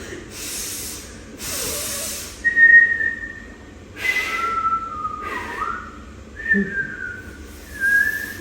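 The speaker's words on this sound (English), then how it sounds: "You just whistle with your fingers in your mouth." A person whistles with fingers in the mouth, giving several sharp, shrill whistles of varying length. Some rise or fall in pitch, and breathy blowing and hissing sounds fall between them, with no talking.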